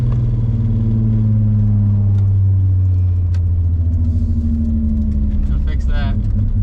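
Golf MK2 with a swapped 12v VR6 and 288 camshafts pulls hard, its engine drone climbing steadily from inside the cabin, loud and continuous.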